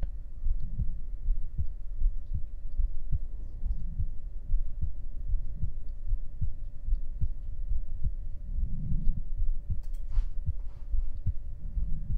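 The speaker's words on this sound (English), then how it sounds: "My heartbeat is quite loud." Close, amplified human heartbeat pulses low and regular for several seconds over a quiet hum, each beat a soft muffled double thump.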